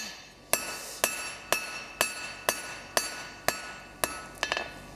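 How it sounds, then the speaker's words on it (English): A hand hammer forges a steel taper on an anvil with eight sharp ringing blows at a steady, roughly half-second rhythm, each strike bright and metallic with a short ring-out, heard close and alone. "So heavier blows higher up where it's thicker, and then lighter blows where that bar is thinner."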